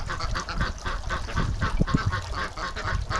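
Ducks close by give repeated honking quacks in loose, overlapping bursts, with several calls stacking over a low outdoor background.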